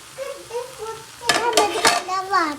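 Green chillies and tomatoes go into a pan for an egg roast, giving short sizzling bursts and stirring noises beneath a woman's ongoing speech.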